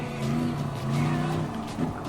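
Camaro Z28 muscle car racing at Willow Springs in Gran Turismo Sport, engine droning and rising as it re-accelerates, with tire squeal and other cars close by, loud and continuous.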